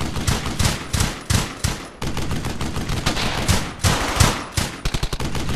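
Machine gun and rifle fire in the World War II shooter Brothers in Arms: Hell's Highway, dense bursts of rapid shots crackling almost without pause, with sharper single reports and a fast volley near the end.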